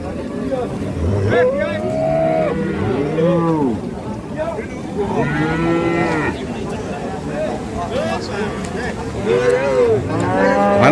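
At a busy rural cattle market, several cows moo repeatedly with long, loud, drawn-out calls from close by and farther off, overlapping with crowd chatter and general market bustle.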